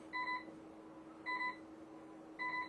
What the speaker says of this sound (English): Alarms will start going off on the bridge.